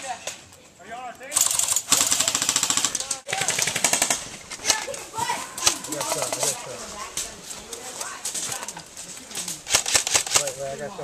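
Airsoft guns fire during an outdoor skirmish in rapid, loud bursts of crisp snapping shots, with pauses between volleys and players' voices calling out underneath.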